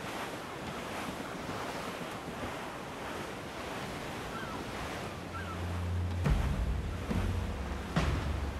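Wind and ocean waves while sailing in Assassin's Creed IV: Black Flag, a steady rushing wash of surf and gusting wind, with low rumbling knocks building toward the end.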